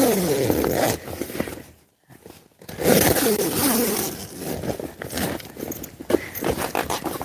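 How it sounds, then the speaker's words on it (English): Tent zippers on a KingCamp tent run repeatedly along the tarp and the bug net, making close, loud rasping pulls with a brief quiet pause in the middle. "So I'm zipping down the tarp part, this part, and I'm also zipping up the bug net as well"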